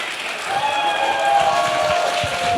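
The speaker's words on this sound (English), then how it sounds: "another round of applause" Audience applause at a pageant: a crowd's steady clapping rises and holds for a couple of seconds, with faint voices mixed in.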